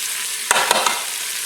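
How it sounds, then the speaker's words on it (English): Jalapenos, onions and garlic dropped into a pan of cooked-down bacon for refried beans, a loud steady sizzle broken by a few sharp clatters and scrapes as the vegetables go in and get stirred, with no voices. "We're going to go ahead and add our jalapenos, onions, and our garlic as well."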